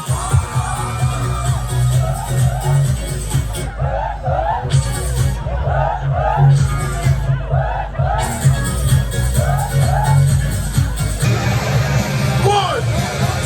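A live event crowd roars with cheers, whoops and yells in loud sustained waves, with short gaps between bursts and a voice on a microphone briefly heard over the din.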